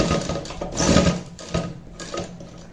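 A simple sewing machine stitches a hook-and-eye fastening onto a blouse with a steady close mechanical whirr, broken by brief clicks and pauses of the needle and fabric.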